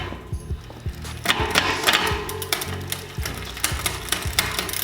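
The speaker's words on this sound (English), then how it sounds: "spin the pedals to get the chain into the correct gears and make sure everything spins correctly" E-bike pedals and chain spun by hand through the gears on a Dillenger Samsung off-road conversion kit, giving close rhythmic ticking and clicking of the freewheel and chain with a few sharper clacks.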